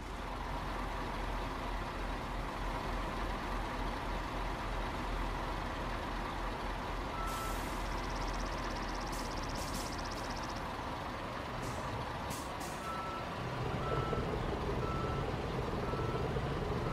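A construction truck in the game Bau Simulator 22 reverses, its engine droning steadily while a backup alarm beeps in a regular series, with a hiss of air brakes near the end.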